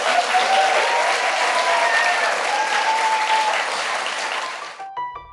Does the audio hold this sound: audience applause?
yes